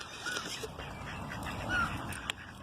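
Ducks quack now and then over a steady outdoor background in Örebro, Sweden, the calls moderately near and mixed with general open-air noise, among geese, pigeons and magpies.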